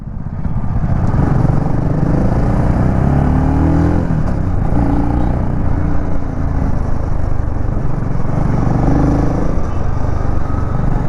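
A BSA Gold Star 650 single-cylinder motorcycle, 2025 model, being ridden: a steady, loud engine drone with throttle changes and low rumble throughout, with no talk over it.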